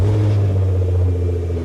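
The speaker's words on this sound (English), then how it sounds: "Engine, start." A 2015 BMW M6 engine idles just after starting, a loud, steady low rumble with a smooth even hum close by that holds level for under two seconds.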